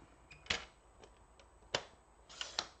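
A paper trimmer cutting cardstock for a handmade card: a few sharp, separate clicks and snaps spaced unevenly in a quiet room.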